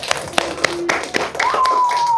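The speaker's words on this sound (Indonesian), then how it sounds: "Tepuk tangan untuk kelompok 5." Students in a classroom clap for a group, a sparse scatter of close hand claps with a few whistled or squeaky tones near the end.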